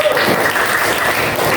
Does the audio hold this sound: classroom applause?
yes